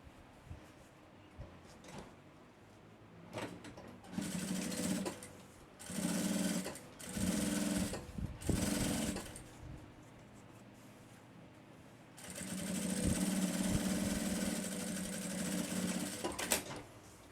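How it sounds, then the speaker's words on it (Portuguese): A sewing machine topstitches a backpack seam with a size 18 needle, running in several short bursts and then one longer steady run, close and fairly loud with quiet pauses between. "fazendo uma costura aqui de press-ponto"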